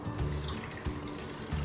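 Lukewarm water poured into flour for paratha dough, a soft, steady close trickle lasting under two seconds.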